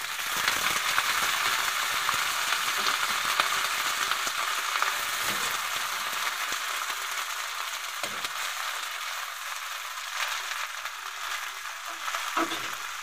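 Garlic, onion and string beans frying in a pan, a steady bright sizzle with crackles and occasional stirring scrapes, close and continuous.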